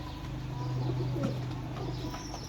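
Damchir pigeons in a breeder setup give a low, soft cooing, one drawn-out coo rising over a busy background of murmuring birds, fairly close.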